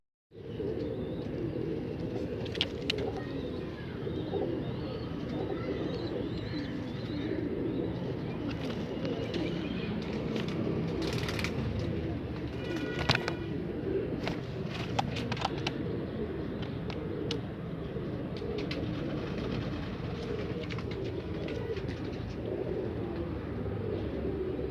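Pigeons coo softly and repeatedly through the steady hum and murmur of a busy pigeon market in Multan, with the soft bird calls scattered among low background crowd and traffic noise.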